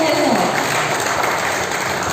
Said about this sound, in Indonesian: Mari kita sambut dengan tepuk tangan yang meriah sang moderator kita, Kakak Franky Wahana.